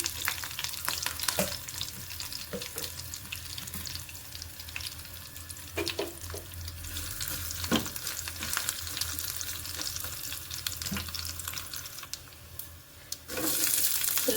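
Garlic and curry leaves fry in hot oil with mustard seeds, a steady close sizzle with crackles and occasional stirring scrapes throughout.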